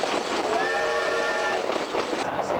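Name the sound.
train running on rails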